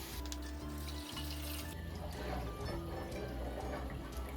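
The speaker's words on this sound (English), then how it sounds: "we're gonna add 1 quart of water, and I'm gonna add 2 quarts of chicken broth." Water and chicken broth poured into a pot of chicken and sausage gumbo vegetables, a steady close-up splashing and running liquid sound that continues throughout without talk.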